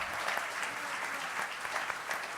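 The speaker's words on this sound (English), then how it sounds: "Give it up. You can clap now." A debate audience applauds the moderators, a dense, continuous patter of many hands clapping in a hall, steady and moderately loud throughout.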